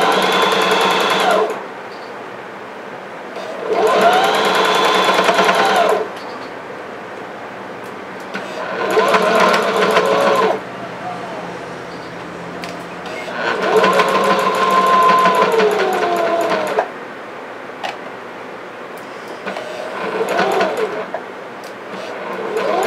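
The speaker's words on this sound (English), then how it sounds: "So when you get down to sewing the ruffle" Sewing machine stitching a skirt ruffle for a three-layer ruffle skirt, running in five loud bursts of rapid mechanical whirring separated by short quiet pauses.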